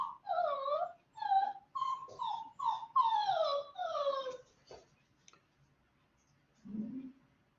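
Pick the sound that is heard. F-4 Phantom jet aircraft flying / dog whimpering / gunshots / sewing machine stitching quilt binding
dog whimpering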